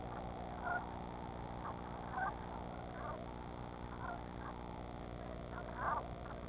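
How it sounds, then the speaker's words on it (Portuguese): Geese call as they fly over the vast northern deserts of Alaska, repeated faint honks at intervals over a steady, hissy background. "Os gansos voam, se afastando do inverno"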